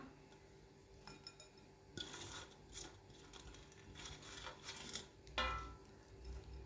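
Fried onion being stirred into chicken masala for South Indian chicken chukka: quiet, sporadic metallic clinks and scrapes of a spoon against the pan, with a couple of sharper knocks, close by and otherwise calm.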